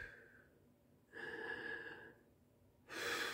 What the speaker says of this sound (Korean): 이렇게 긴 숨을 들이쉬면서 아주 편하게 주무십니다.